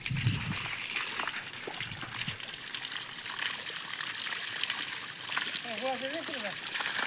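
Cattle being washed outdoors on a sunny day: water gushes and splashes continuously at close range. People talk and call over it, and a short voiced sound comes near the end.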